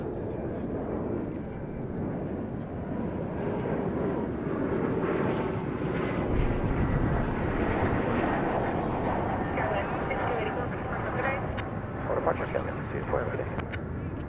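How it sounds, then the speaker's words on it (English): An American Airlines Airbus A321 at DFW Airport produces a steady broadband jet roar that swells and holds from a moderate distance throughout. "That is American 2177, destination San Francisco,"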